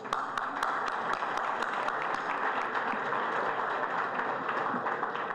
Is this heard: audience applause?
yes